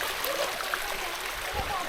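Dog named Bob wading into a river for the first time, with continuous rushing water and light splashes in an outdoor setting, under a man's speech.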